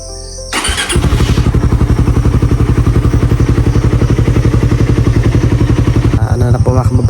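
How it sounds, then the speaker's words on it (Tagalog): A motorcycle engine starts up at night, then idles loudly and steadily with a rapid, chugging rumble close by as it warms up. "painitin muna natin yung motor"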